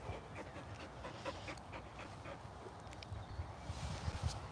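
A dog pants steadily and fairly close outdoors, a continuous rapid breathy rhythm over faint background noise, growing a little louder toward the end.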